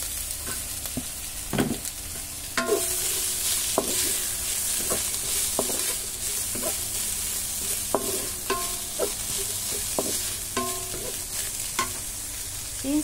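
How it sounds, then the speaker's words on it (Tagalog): Leftover chicken tipped into a pot of Filipino vegetable soup with onion, with a soft background sizzle and sharp clinks and scrapes of a utensil against the pot at irregular intervals. "Ilagay na natin yung leftover guys na chicken."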